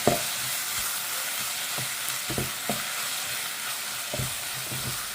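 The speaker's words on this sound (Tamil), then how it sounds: "இந்த வெங்காயத்தில் கொஞ்சோண்டு மஞ்சத்தூள் அதையை போட்டு இதை நல்லா சவுக்க வச்சுக்கணும்" A steady sizzle of onions sautéing in a pan, with a few soft scraping stirs of a spoon now and then, no voices.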